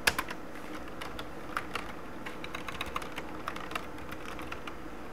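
Fingers tap on a computer keyboard running Ubuntu 11.04, producing quick, irregular keystrokes at close range over a soft background hiss, with no speech.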